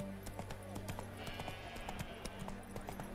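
Hooves of the horse Roach clip-clop in a quick, even trot in a video game, with someone talking over the rhythmic steps.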